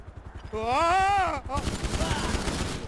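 Gunfire in GTA 5 during a shootout, fast rattling shots running under a character's drawn-out voiced line and continuing afterward with steady clatter.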